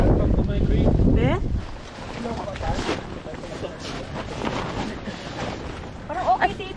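Wind gusts across the high mountain slopes of Mt. Pulag, buffeting the microphone with a rough, blustery roar while people talk over it.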